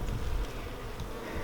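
Honeybees buzz steadily around an open hive during an inspection, a dense close drone with no voices over it.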